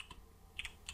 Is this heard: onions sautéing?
no